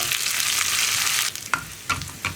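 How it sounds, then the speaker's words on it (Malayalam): Onions and curry leaves fry in a pan for a taro root masala curry, with a steady close sizzle that eases off midway and then breaks into a few short stirring scrapes. "അതുപോലെ തന്നെ 2-3 തണ്ട് കറിവേപ്പിലയും ചേർക്കാം. ഇതെല്ലാം ചേർന്ന് ഒന്നുകൂടി ഒന്ന് കുക്കായി വരട്ടെ."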